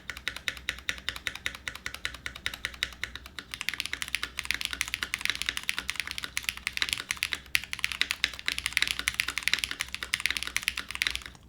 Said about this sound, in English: It's a very deep spacebar.